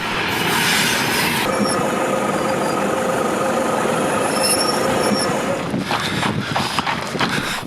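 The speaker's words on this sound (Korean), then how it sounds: "아, 기차 너무 길어서." A long train rolls past up close in the Mauritanian Sahara desert, heavy rumbling mixed with shrill squealing wheels, the clatter easing slightly near the end.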